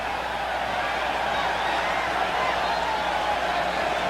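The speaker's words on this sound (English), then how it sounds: "Haitian crowd starting to sense" Haitian fans cheering at the Orange Bowl during a Haiti–USA football match, a continuous broad roar of the stadium crowd with commentary murmuring underneath.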